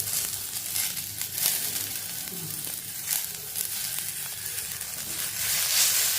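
Onions and coriander leaves sauté in a hot pan with a steady close sizzle, broken now and then by the scrape and rustle of stirring.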